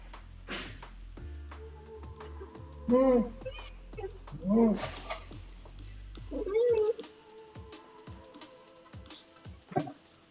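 A cat meows about three times in drawn-out, wavering calls spaced a second or two apart, fairly close, over a steady low background hum with faint clicks.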